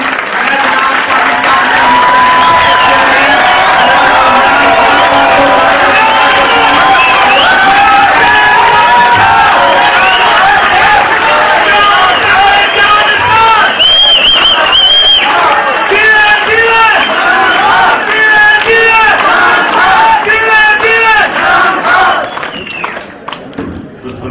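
A rally crowd cheers and applauds loudly and continuously, with shouts and whistles rising over dense clapping before the noise begins to fade at the end.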